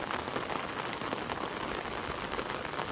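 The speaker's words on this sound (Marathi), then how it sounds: "हे बघा किती जोरात पाऊस पडतोय" Heavy rain pours down steadily, a dense continuous hiss of drops striking surfaces, loud and close with no voices.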